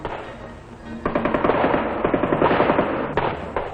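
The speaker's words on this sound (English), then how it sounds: "the hard-hitting M60 general-purpose machine gun is considered one of the most important" An M60 general-purpose machine gun fires a sustained automatic burst during training at Pleiku, a rapid, evenly spaced rattle of shots heard at moderate distance, followed by a couple of single reports.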